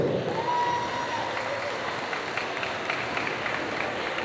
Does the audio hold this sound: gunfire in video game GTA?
no